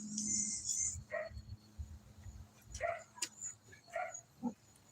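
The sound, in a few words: dog barking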